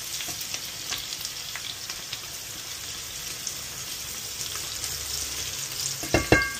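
Onions fry quietly in a pan with a faint steady sizzle and some stirring scrapes, followed by a couple of louder clatters near the end.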